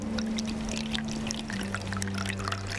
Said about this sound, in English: Let us add a little bit of white vinegar first.